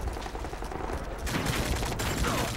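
Gunfire in Modern Warfare 3, a rapid, dense burst of shots through a wall that grows louder partway in, close and harsh with a rattling mechanical edge.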